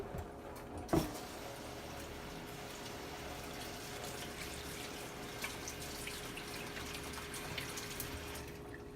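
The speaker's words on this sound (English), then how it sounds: "Let me just get my hands washed." Tap water runs steadily into a kitchen sink while hands are washed, a constant close hiss of flow with a brief knock near the start and no talking.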